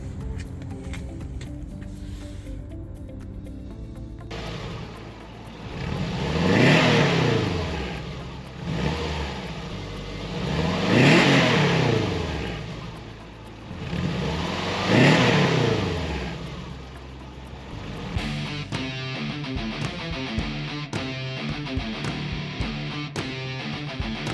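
A late-1970s ADR 28 car being revved for an exhaust noise test, three loud rising-and-falling revs in a row after a quiet idle, with a rougher idle settling in at the end.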